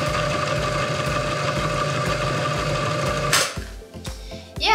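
An electric pottery wheel runs with a steady mechanical hum and a regular pulsing rhythm, up close, then slows and trails off toward the end with a few bumps.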